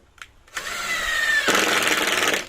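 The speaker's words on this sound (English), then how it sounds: "Sometimes you have to go in and out just to pre-drill" A power drill pre-drills deck boards near a joist on a budget deck build, whirring up after a faint tap, then biting harder and louder into the wood for its final second.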